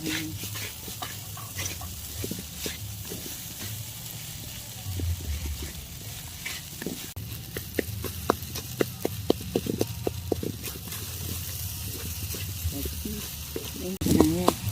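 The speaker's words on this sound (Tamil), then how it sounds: "அப்படியே நல்லா குத்திட்டு குத்திட்டு கிளறணும்" A sugar mixture of about 200 grams is stirred and jabbed in a pan, sizzling softly underneath while repeated scraping taps come in quick, uneven bursts, denser toward the end.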